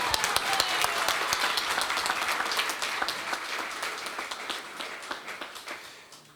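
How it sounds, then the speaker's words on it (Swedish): An audience at a company farewell gathering claps in a dense, crisp round of applause that starts strong, then gradually thins and fades toward the end, with no talking over it. "Det är nu ni ska klappa."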